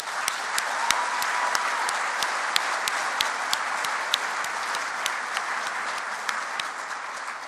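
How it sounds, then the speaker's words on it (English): An audience claps steadily throughout, with a dense wash of applause and a few sharper individual claps standing out close by. "let's give a round of applause for Jamie-Lukas."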